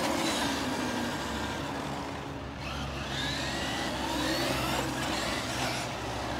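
A Traxxas Wide Maxx RC truck drives over a bump, its electric motor giving a steady, loud, buzzing whine that rises and falls slightly, heard close with no talking.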